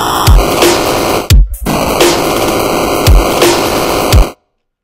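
Audio run through a Redux effect in a music production session, downsampled and bit-crushed into a harsh, gritty static texture over a looping beat with punchy low kicks, a brief dropout near the middle, then cutting to silence.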